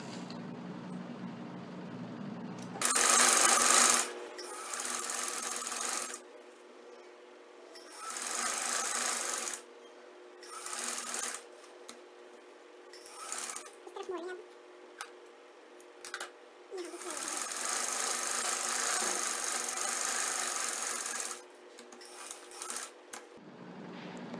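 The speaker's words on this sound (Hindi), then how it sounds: "बैन लगाने के लिए इस तरह सिलाई लगाएंगे" A sewing machine stitches a Chinese-style collar in several separate bursts of rapid, close stitching, with short quiet pauses between runs.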